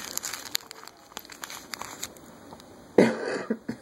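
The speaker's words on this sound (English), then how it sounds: "I still have a bit of a cough lingering" A person with a lingering cough coughs once, loudly and close, amid faint crinkling of paper or packaging handled in a quiet room.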